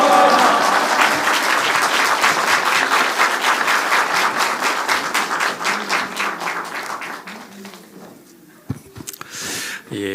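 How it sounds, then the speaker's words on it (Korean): A church congregation claps in welcome as the pastor comes forward, dense sustained applause that thins and fades toward the end, followed by a few scattered claps and small sounds. "우리 목사님 나오실 때 큰 우리 할렐루야로 우리 박수로 우리 맞이하면 좋겠습니다"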